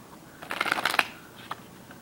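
Playing cards flourished by hand during beginner card flourishes, a quick close riffle of crisp snaps lasting about half a second, followed by a single faint flick.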